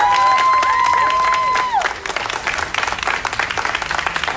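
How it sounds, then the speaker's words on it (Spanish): Audience applause and cheering for Miss Universe Puerto Rico 2019 Madison Anderson at a press event, a loud crowd roar with a sustained tone at the start, then rapid dense clapping. "fuerte el aplauso para nuestra Madison Anderson"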